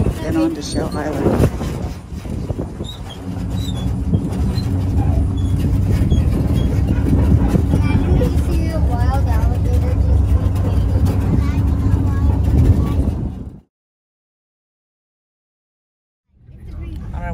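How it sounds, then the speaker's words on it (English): A tram carrying riders toward a ferry landing for Shell Island, Florida, rumbles along with steady engine drone and wind buffeting the microphone, voices talking over it, then a brief silence before the motor noise returns. "We're on a tram to go to the boat"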